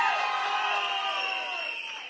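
Crowd at a political rally for the TVK third anniversary cheering and whooping, a dense roar of many voices swelling then easing slightly over two seconds.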